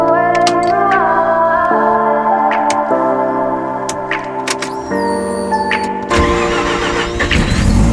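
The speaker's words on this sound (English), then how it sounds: "about a 3-week cold start" Mercedes AMG W202 DTM race car engine cold starting after sitting three weeks, a loud steady rumbling idle with shifting tonal layers, sharply rising into a harsher, louder roar near the end.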